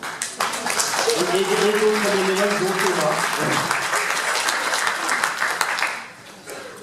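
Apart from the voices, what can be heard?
applause for volunteers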